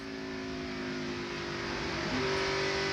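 Stock cars racing at the 1998 Diamond Hill Plywood 200, two cars battling for fourth and fifth, engines holding a steady loud droning whine that climbs in pitch near the end.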